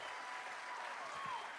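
Faint crowd applause at a cruise ship naming ceremony, steady clapping spread across a large gathering, distant and without talk over it.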